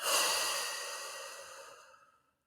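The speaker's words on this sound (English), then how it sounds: "breathe it on in and out" One long, deep exhale during a guided tapping and breathing exercise, heard close and soft as a breathy whoosh that fades steadily over about two seconds into silence.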